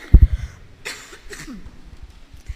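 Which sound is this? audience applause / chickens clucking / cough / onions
cough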